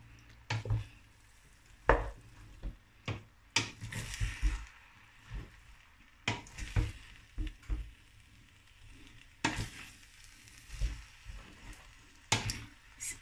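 A spoon stirs and scrapes through thick tomato sauce for spaghetti with plantains in a pan, giving irregular close clacks and soft wet squelches with a faint sizzle beneath, no talking.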